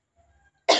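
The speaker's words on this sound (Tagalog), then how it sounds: "Contracting abdominal muscle while coughing increases cough effectiveness." A patient gives a single forceful cough while contracting the abdominal muscles during chest physiotherapy with percussion and postural drainage, a sharp close burst after near silence.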